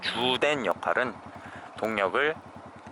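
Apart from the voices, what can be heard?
No everyday noises stand out.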